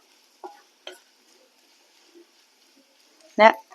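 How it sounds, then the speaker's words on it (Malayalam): A spoon is stirring a dried shrimp roast with chili powder in a pan, giving a few sparse, short scraping clicks. One louder scrape stands out near the end against an otherwise quiet background. "നന്നായിട്ട് ഇളക്കി യോജിപ്പിക്കും"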